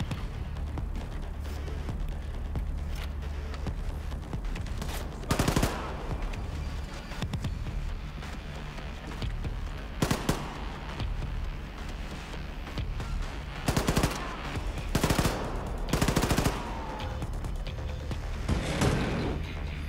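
Gunfire from a weapon in Wolfenstein II: The Freedom Chronicles, heard as short, sharp bursts of shots spaced several seconds apart. They rise loudly above a constant low game background.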